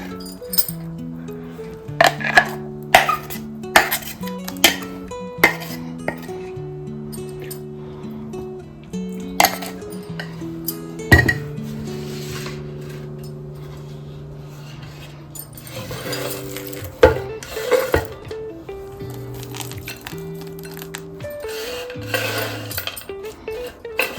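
Dishes and glass clinking while ice cream mixture is poured into a bowl, with repeated sharp chinks and taps scattered through, some ringing tones, close and fairly loud.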